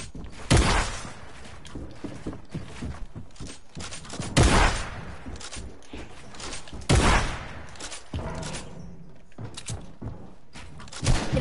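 Flintlock gunfire in a video game, loud booming shots spaced a few seconds apart over a steady noisy game background, with no talk.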